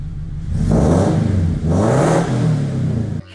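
A car fitted with an aftermarket axle-back exhaust revs up twice in close succession, a loud, throaty engine rise and fall heard up close with no talking.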